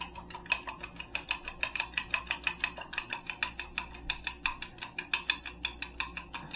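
A single egg being beaten with a utensil in a bowl for egg wash, a steady run of fast, light clinking taps close by with no talking.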